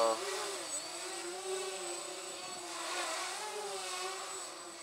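A twin tricopter drone with a heavy frame, running on a 3S battery at about three-quarters throttle, flies outdoors in wind, its rotors giving a steady, wavering buzz that rises and dips slightly throughout.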